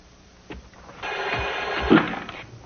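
A telephone rings indoors with a bright electronic warble lasting over a second, fairly close and moderately loud, following quiet room noise and a few soft knocks.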